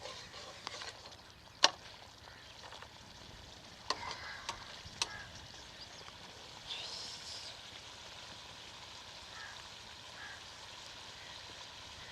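Chicken karahi with white pepper powder sizzles softly in a pan, a low continuous fry broken by a few sharp spoon clinks and stirring sounds.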